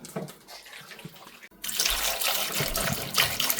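Water runs steadily into a cooking pot filled with hibiscus, ginger, grapes, strawberries and mint, a broad continuous splashing pour that starts abruptly after a quieter moment and keeps going loudly to the end.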